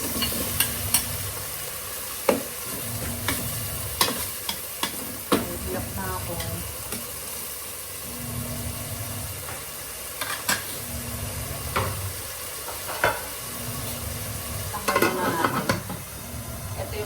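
Onions and tomatoes sizzle steadily in a frying pan while a utensil stirs and scrapes, with sharp clinks and scrapes breaking through the continuous frying hiss at close range, and no talking.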